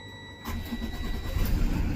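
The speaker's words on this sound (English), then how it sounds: "You hear the bus is currently running its cycle." A school bus engine cranks and catches, then runs with a steady mid-pitched rumble, close and fairly loud, with no one talking.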